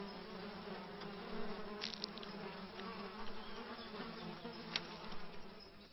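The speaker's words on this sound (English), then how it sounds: "Biting insects are a constant torment." Insects buzzing steadily around a reeking nest, a close, continuous drone of bees or flies with a few louder passes near the listener.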